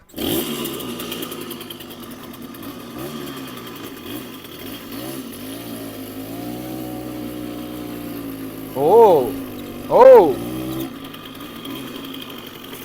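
An old two-stroke moped engine buzzes steadily as it is ridden in a Carpathian village, a thin droning whine that holds for several seconds, broken by two loud shouted exclamations near the end.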